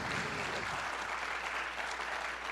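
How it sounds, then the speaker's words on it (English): Audience applause honoring birthday people at a science talk, a dense, steady wash of many hands clapping at close range that holds loud and even throughout. "Give a big round of applause for all our birthday people."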